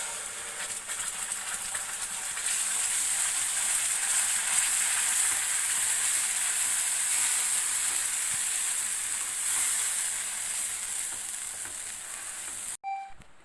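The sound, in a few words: ground paste frying and sizzling in a pan for butter chicken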